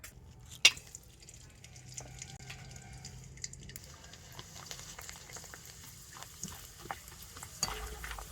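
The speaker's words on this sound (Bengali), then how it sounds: "আর এবারে আমি এই তেলের মধ্যে কয়েকটা চিপস দিয়ে দেবো।" Watermelon rind chips sputter in hot oil as a quiet bubbling hiss, with a sharp splash near the start and irregular small pops and crackles continuing throughout.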